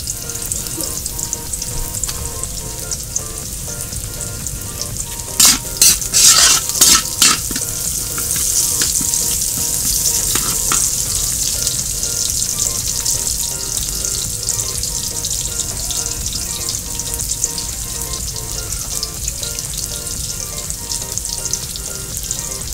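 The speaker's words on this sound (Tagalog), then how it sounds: "So pa-brown na muna natin yung mga sibuyas natin tsaka garlic" Onions and garlic browning in a pan at an outdoor cooking setup, a steady close sizzle and hiss throughout, with a brief burst of clinking stirring strokes near the start and no speech.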